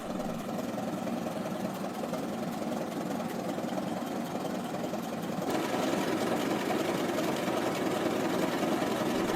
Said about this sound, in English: Powered by a 4-cylinder engine running on gasoline or kerosene